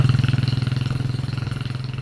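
A motorcycle idles close by near a hanging bridge beside a river, its engine thumping in a steady, even rhythm that stays loud throughout with no voices over it.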